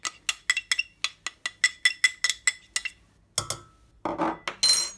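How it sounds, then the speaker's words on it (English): A utensil clinks rapidly against a bowl while sugar and corn flour are stirred into milk, a quick run of sharp, close ticks that pauses, then gives way to a few scraping, rustling bursts. "We need to mix the sugar in the milk and the corn flour as well with the milk."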